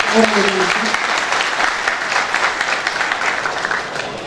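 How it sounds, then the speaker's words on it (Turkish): Guests at a traditional iftar festival break into sustained applause, thick and steady clapping that stays loud throughout, with a brief voice briefly audible at the very start. "Büyük alkış istiyorum."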